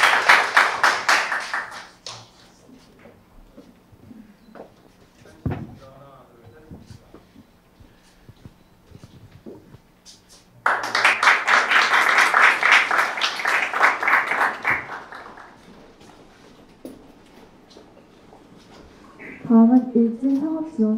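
An award-ceremony crowd at a Korea University startup competition claps for a winning team in two loud bursts of dense applause, separated by a quiet stretch with faint taps and stray sounds, and a brief voice near the end.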